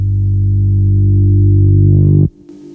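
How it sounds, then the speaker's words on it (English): A single bass guitar note with light reverb played in reverse, a steady low sustained tone that swells slightly louder over about two seconds before cutting off abruptly into near silence. "The bass is just one singular whole note on bass guitar with a little bit of reverb and then reversed."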